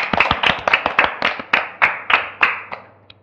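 A classroom of primary-school children claps for a classmate during a maths lesson, with a brief burst of about a dozen sharp, close claps that quickly thin out and stop.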